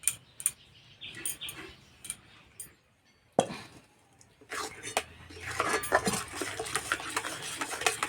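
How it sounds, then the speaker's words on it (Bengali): Jaggery and sugar mixture stirred in a wok for date-palm jaggery monda, with intermittent scraping and clinking strokes, quiet and close, growing busier and more continuous toward the end. "এইভাবে কিছুক্ষণ নেড়ে নেব"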